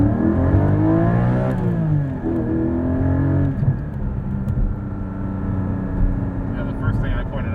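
A 2020 Porsche 718 Cayman GT4 blips its engine through auto rev-matched downshifts, the revs rising and falling in quick sweeps before settling into a steady in-cabin drone, with people talking over it.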